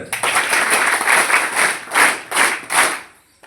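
Audience applause welcoming a guest at a government school event: a dense, steady crowd clapping that runs about three seconds with a few swells before fading out at the end.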